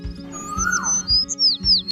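Small cartoon birds, a sparrow and a cuckoo, chirp and tweet in a short run of bright rising and falling calls, fairly close, over a soft rhythmic music bed with no talking.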